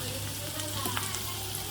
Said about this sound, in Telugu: ఫస్ట్ అయితే ఆనియన్స్ వేసాం కదా మనము, అవి బ్రౌన్ కలర్ వచ్చేంత వరకు మనం వెయిట్ చేద్దాం.